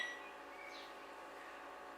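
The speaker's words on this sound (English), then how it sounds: "We press the time cook." An Anko 28L microwave oven gives a faint, steady electrical hum in a quiet room, and a short beep sounds right at the end.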